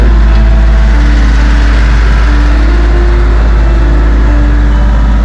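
A tractor's low, steady engine idles and rumbles continuously, close by and fairly loud, with no voices over it.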